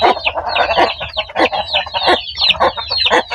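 A second batch of newly hatched chicks cheep busily in their pen during feeding, with loud, close, rapid overlapping peeps that continue throughout.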